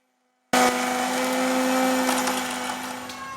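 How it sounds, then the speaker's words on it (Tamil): A kitchen mixer grinder powdering a cup of sugar in its jar switches on abruptly after a moment of silence, then runs as a loud, steady, high-pitched motor whine with a gritty rattle that eases slightly toward the end. "உங்க மிக்ஸி ஜார்ல 1 கப் சர்க்கரை எடுத்து அதை நல்லா பவுடர் பண்ணிக்கோங்க"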